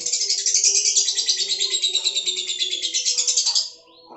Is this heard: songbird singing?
yes